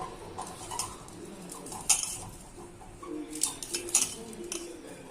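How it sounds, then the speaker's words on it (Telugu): Potato filling being mixed by hand in a bowl with chili powder and salt, giving soft scraping and a few light clinks of utensil against the bowl, with faint bird cooing in the background. "కారం పొడి, సాల్ట్ వేసి అంతా ఇలా కలుపుకోవాలి."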